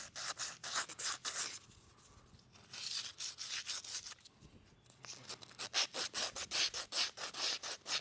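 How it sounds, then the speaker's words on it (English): Sandpaper rubbed by hand over a metal cutting-unit part, cleaning where it slides into its housing: close, steady back-and-forth rasping strokes in quick repeated bursts, with a brief pause partway through. "Take a little sandpaper, clean this up where it slides in the housing."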